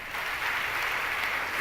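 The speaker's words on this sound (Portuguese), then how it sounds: "Pode aplaudir Daniel." A congregation at a healing Mass claps in a soft, dense, steady patter of applause, heard from a distance.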